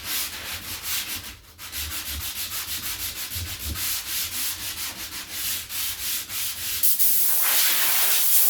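Hand sanding of wood for a custom bathroom door with a worn-out sanding disc, a close, steady rasping rub in quick repeated strokes that shifts to a smoother, brighter hiss near the end.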